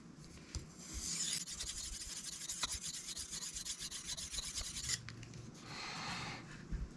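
A Cold Steel Mayhem knife blade is sharpened on a Sharpal 162N and a Shapton Kuromaku whetstone, giving continuous close rasping strokes with a brief pause near the end, then more grinding.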